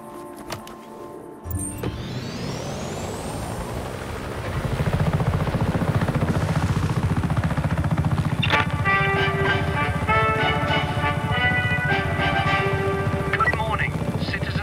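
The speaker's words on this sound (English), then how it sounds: "This chopper, fratre!" Helicopter in the open-world video game Just Cause 3, its rotor chopping steadily and loudly throughout, joined partway by layered game music and effects.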